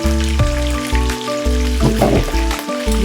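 Food sizzles and crackles steadily as it fries in a large pan (kawali) in a home kitchen, with a continuous close hiss throughout and some faint tonal hum in the background.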